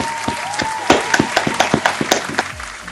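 Applause at a live taping of a metal talk show, with a handful of claps and cheers breaking out alongside a sustained tone and a few sharp hits, fairly close and ending after a few seconds.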